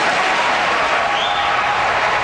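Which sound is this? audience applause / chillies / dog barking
audience applause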